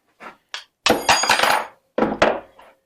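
A few light taps followed by several sharp hammer knocks on metal and wood, close and loud, in two short bursts, as a hammer knocks a saw-chain file out of its handle.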